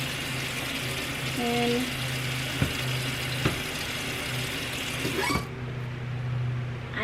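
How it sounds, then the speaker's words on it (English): Kitchen tap water runs steadily while an item is rinsed under it, a continuous near splashing hiss with small knocks, cutting off near the end; a voice speaks briefly. "So I just rinse this off."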